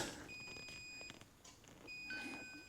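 High electronic warning beeps from a 2012 Nissan Leaf sound in two separate bursts, quiet and steady in pitch, with soft background noise between them.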